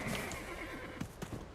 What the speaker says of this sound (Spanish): Caballo inútil